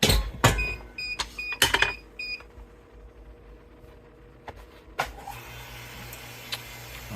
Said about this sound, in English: I'm going to use a foot pedal to kick the vacuum on